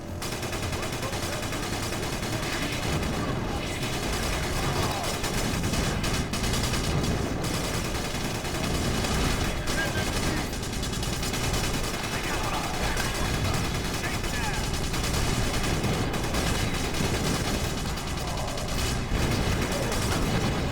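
Machine gun fire in Battalion Wars, a steady stream of rapid shots layered with game music and battle noise, loud and continuous throughout.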